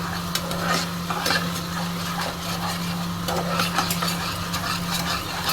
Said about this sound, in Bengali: এবার কিন্তু এটাকে আমি সবগুলোকে আবার সুন্দর করে কষিয়ে নেব।